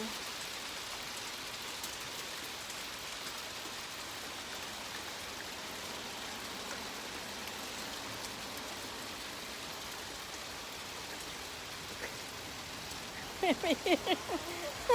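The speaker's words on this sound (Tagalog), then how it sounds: "it's raining" Steady rain falls in Vancouver, a dense, even hiss holding for the whole stretch, with a few brief louder taps or bursts near the end.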